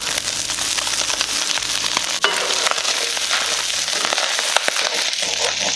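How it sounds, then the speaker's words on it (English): Garlic, onion and jalapenos fry in a pan for a chili, a steady loud crackling sizzle with scattered pops and scraping, alone without talk. "This is frying up pretty good."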